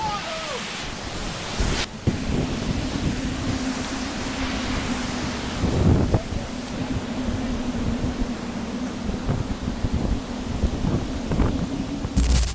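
Strong wind gusts roar through a forest as a storm builds ahead of an approaching tornado, a loud continuous rushing noise with buffeting thumps on the microphone and a low drone underneath.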